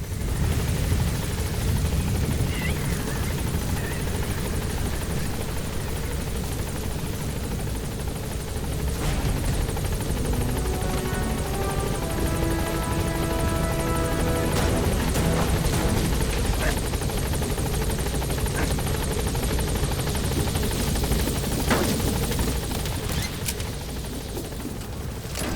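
Support helicopter arriving in Metal Gear Solid V: The Phantom Pain, a steady loud rotor and engine roar that holds throughout, with a passing burst of gunfire-like rattling in the middle.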